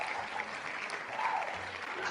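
A small group applauds during a live coin and collectibles donation stream, giving a faint, steady patter of clapping with no voices.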